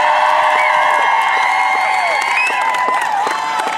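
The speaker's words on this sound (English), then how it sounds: "let's have a big round of applause for everyone who stood tall today" A crowd of young children and college students at a school-strike climate rally in Hereford applauds and cheers, with scattered whoops and shouts over steady clapping, close and lively.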